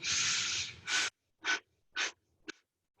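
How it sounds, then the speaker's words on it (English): Deep breaths during a yoga strength class: one long, loud inhale-exhale rush, then three shorter breaths spaced evenly about half a second apart, close and alone without talk. "One more round, breathing in."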